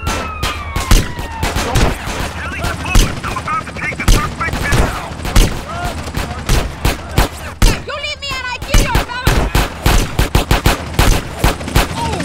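Rapid video-game gunfire in GTA San Andreas during a liquor store mission, loud and close, with dense repeated bursts of shots and a siren-like tone early on, while characters speak intermittently over the shooting.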